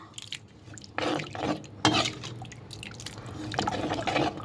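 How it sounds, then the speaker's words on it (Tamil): Nethili fish curry (kuzhambu) being stirred in a pot: wet, sloshing scrapes and liquid gurgles in uneven bursts, close and moderately loud, with no talking. "இப்படி நல்லா கிளறி விடுங்க."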